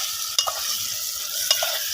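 Chicken fries and is stirred in a pot at an outdoor cooking spot in a mango orchard: a steady hiss of sizzling broken by two sharp scraping stirs of the spoon.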